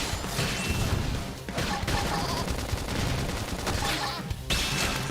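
Rapid gunfire in the video game Xenoblade Chronicles X, a dense, loud barrage of shots and impacts that briefly drops out twice before resuming.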